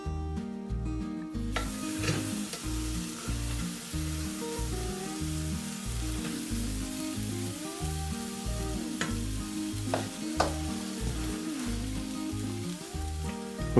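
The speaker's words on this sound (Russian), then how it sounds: "Выпекаем по минуты полторы с каждой стороны." Yeast pancake batter frying in an oiled pan for Russian blini, giving a steady, continuous sizzle for the whole stretch with a rhythmic musical backing underneath and no talking.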